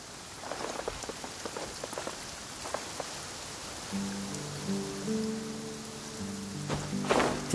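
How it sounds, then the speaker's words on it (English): Steady rain downpour in the video game Genshin Impact, a dense hiss with scattered droplet taps, joined midway by soft game music; no voices. "Taking a stroll in the middle of a downpour certainly rouses the spirit."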